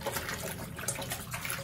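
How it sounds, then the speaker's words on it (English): Clothes being scrubbed by hand in water in a quarantine hotel room, a steady wet swishing and sloshing with small splashes, close and continuous. "And I just keep scrubbing and scrubbing and scrubbing until"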